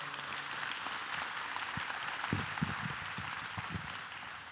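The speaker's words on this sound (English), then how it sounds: "Let's give them a round of applause," Audience applause at a DBE Summit, a steady wash of many hands clapping at moderate distance, fairly quiet, with a few louder claps standing out midway.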